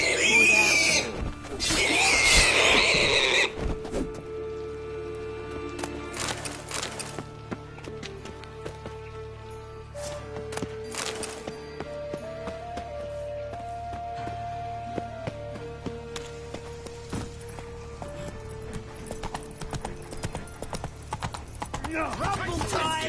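Roach, a horse in the video game The Witcher 3: Wild Hunt, galloping with a steady run of hoof clip-clops under in-game music, with a shout and voices at the start and game dialogue breaking in now and then.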